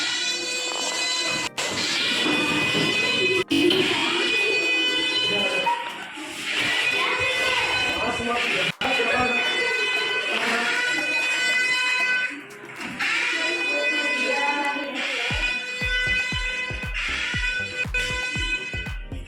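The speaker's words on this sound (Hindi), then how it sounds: "तो हम आपको सायरन का साउंड बजाएंगे" A siren sounds loudly for a school earthquake safety drill, a sustained harmonic wail with a few short breaks, followed near the end by scattered thumps and clatter.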